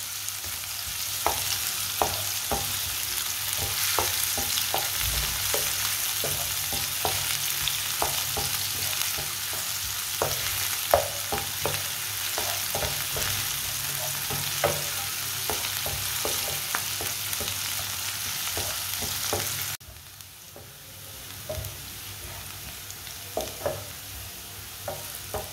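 Finely chopped onion browns in hot oil, a low continuous sizzle dotted with crisp pops and repeated spoon scrapes at close range, dropping quieter near the end as the heat settles, with no talking.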